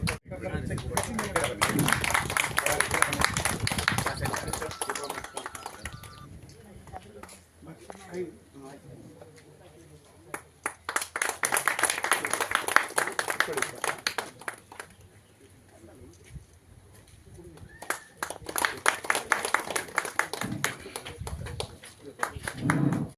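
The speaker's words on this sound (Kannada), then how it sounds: "ಚಪ್ಪಾಳೆ ಮೂಲಕ ಒಂದು ಉದ್ಘಾಟನೆಯನ್ನು ಮಾಡಬೇಕು ಕೇಳ್ಕೊತಾ ಇದ್ದೀವಿ" A crowd applauds at the foundation-stone inauguration ceremony for a 33 kV electricity substation, sustained clapping in several loud bursts with quieter stretches between, and a voice speaking over it.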